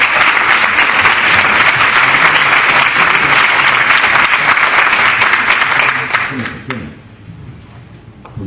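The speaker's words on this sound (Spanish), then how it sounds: "les dejo con Antonio Escotado, le damos un aplauso a ustedes." Sustained loud applause fills a conference hall as a speaker is introduced, then it thins out and fades after about six seconds, with a few voices heard as it dies down.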